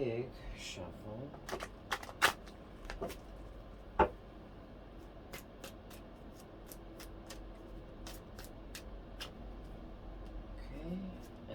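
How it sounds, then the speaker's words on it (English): Tarot cards are shuffled in quick crisp riffles and taps at close range, with scattered sharp snaps amid faint background talk. "Okay, one more big shuffle."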